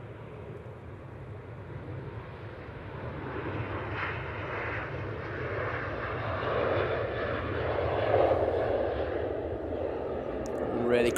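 A Ryanair jet takes off from Manchester Airport bound for Dublin, its broad engine roar swelling steadily over about eleven seconds with a low rumble underneath, while someone speaks over it.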